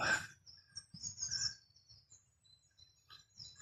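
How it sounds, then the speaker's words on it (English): Small birds high in the treetops beside a creek give a busy mix of thin chirps and high twittering calls, rising and falling in short bursts, clear but somewhat distant over a quiet outdoor background. "There's quite a few little birds up in the top of those trees"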